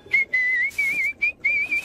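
A cartoon character whistles a cheerful, wavering tune in several short phrases with brief breaks between them, clear and close with no talking.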